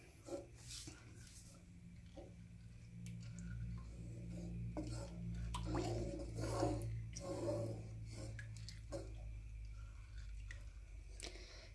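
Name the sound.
stirring Spanish red rice in a pot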